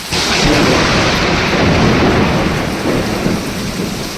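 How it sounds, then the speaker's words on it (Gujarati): Heavy rain pours down during a thunderstorm, a loud, dense hiss that fills every moment, with deep rolling thunder close by underneath and no voices. "હજી એક જો વીજળી પડી ક્યાંક"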